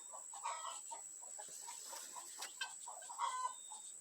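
Backyard chickens clucking behind a tree in a rural setting, a scattered run of short soft clucks and murmurs at moderate distance over a steady high insect whine, with no voices.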